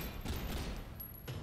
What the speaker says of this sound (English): I have to say the double pistol is quite satisfying.